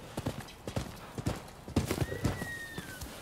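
Horse hooves clip-clop in an uneven trotting rhythm in Rise of the Ronin, close and fairly loud, with a brief whinny partway through and no talk.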